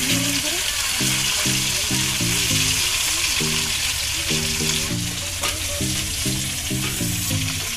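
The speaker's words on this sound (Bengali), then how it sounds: "এইবার এইটা ভাজলে আমাদের মাছ ভাজা কমপ্লিট হয়ে যাবে।" Large tempo fish frying in plenty of hot oil, a loud, steady sizzle filling the whole stretch with crackling bursts and no talk over it.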